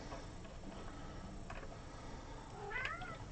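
A cat named Sam gives a single faint meow near the end, heard over a constant background hiss.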